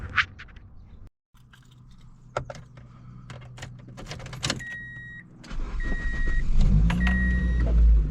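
A Toyota Matrix car starts up and drives off, with a few door and interior clicks, electronic beeps, then a rising engine and road rumble nearby.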